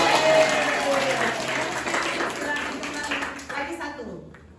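Audience at a university training session clapping after a quiz answer, many hands pattering at a moderate level that gradually tapers off.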